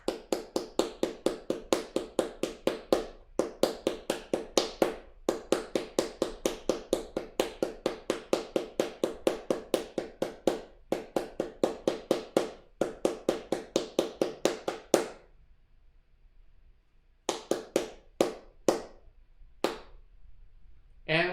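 Hands clap out the rhythm of a Final Fantasy tune: a long run of sharp, evenly driven claps, a short pause, then a few more quick claps.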